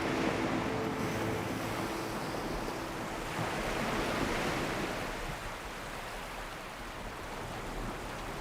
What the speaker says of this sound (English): lapped by the waves of the Indian Ocean